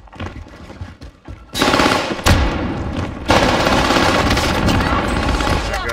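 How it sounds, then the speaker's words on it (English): An allied precision airstrike in the game Warzone hits as a loud burst of explosions and rapid gunfire-like impacts, suddenly erupting and then rumbling on continuously after a quieter stretch with voices. "Allied precision airstrike incoming."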